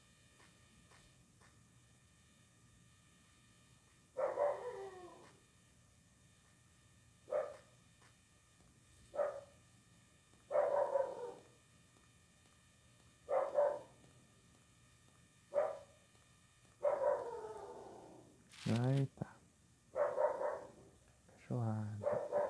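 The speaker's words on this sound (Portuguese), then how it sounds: "Cachorrada." Dogs bark repeatedly in the Silent Hill video game, in spaced bursts of a few loud barks each, with someone briefly talking over them.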